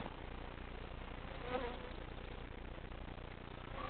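Honeybees buzzing steadily around a top bar hive during a hive split, a dense close hum that holds evenly throughout with no talk.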